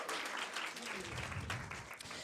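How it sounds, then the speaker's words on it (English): Audience applause at a bootcamp event, a dense, even wash of many hands clapping close by, held steady throughout without pause. "Big applause, please,"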